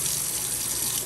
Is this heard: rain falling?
no